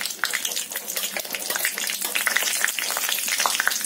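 Three whole green chilies hit hot oil alongside a frying fish head, giving a steady, dense crackling sizzle with little pops throughout, close and fairly quiet.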